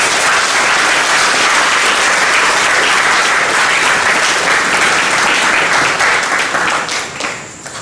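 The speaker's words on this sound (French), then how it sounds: "Je vous demande également de l'applaudir." Sustained applause from a seated audience honouring a professor at a university tribute ceremony, dense and steady for several seconds before tapering off near the end.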